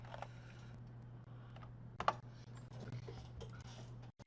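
Close, steady computer keyboard typing, a run of light clicks with a few sharper keystrokes and no talking.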